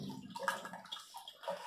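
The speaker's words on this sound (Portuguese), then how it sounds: "Então vamos colocar a água aqui." Water is poured into a container while mixing ferric chloride etchant for knifemaking, a close, fairly quiet splashing and gurgling stream with uneven bursts.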